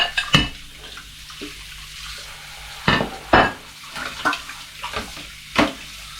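Warm water from a tap splashes at a sink in scattered bursts, as if scooped or hitting hands, over a faint steady background, with no talking.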